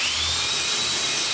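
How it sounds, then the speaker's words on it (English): A power drill drilling a pilot hole whirs steadily at high speed, a continuous close-up whine boring into material without pause. "drill myself a pilot hole."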